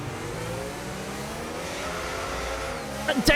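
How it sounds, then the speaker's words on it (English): A Mercedes race car in a racing video game spins its wheels on a restart after a safety car period, a sustained revving engine drone that ends in a sharp, loud squeal and bark near the end. "You heard the wheel spin, and he had no traction at all."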